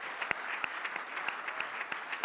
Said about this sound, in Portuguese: Agora dê a Ele uma linda salva de palmas.